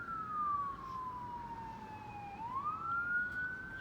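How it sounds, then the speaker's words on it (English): An emergency vehicle siren wails outside, sweeping down in pitch and then climbing back up, one steady tone heard at a moderate distance over a low background hum. "I hear sirens while I'm doing something, while I'm talking."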